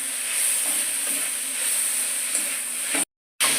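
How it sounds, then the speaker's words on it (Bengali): Cabbage chop mixture with turmeric, chili flakes and fried spices frying in a pan, a steady broadband sizzle and hiss that carries on evenly, then cuts to silence for a moment before returning. "কিছুক্ষণ ভেজে নিচ্ছি"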